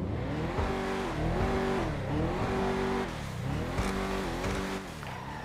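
Infiniti G35 modeled as the Fathom FR36 in GTA 5 revs repeatedly, the engine note climbing and falling in several distinct surges, loud and close with no talking.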